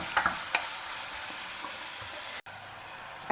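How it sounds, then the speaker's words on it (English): Chopped tomato fries in a pan with a continuous bright sizzle and occasional stirring scrapes. The sound cuts out for a split second near the end, then the hiss carries on close and steady. "And fry that also till the tomatoes become soft and mushy."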